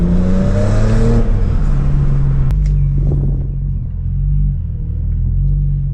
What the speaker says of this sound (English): I love these downshifts.